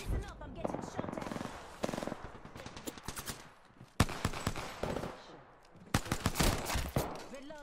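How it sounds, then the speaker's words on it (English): Gunfire in the video game Apex Legends, with repeated rapid automatic bursts and sharp single cracks at close range in several clusters broken by brief lulls, along with some game voice chatter. "I'm getting shot at."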